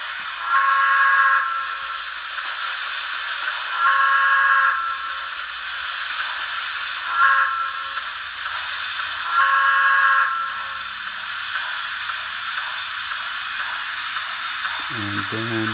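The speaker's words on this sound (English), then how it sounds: "Thirteen is brake crossing horn." A DCC sound decoder in a model train plays its brake and crossing horn: four short horn blasts in an uneven rhythm over a steady mechanical hum, loud and close, with a low groan at the very end.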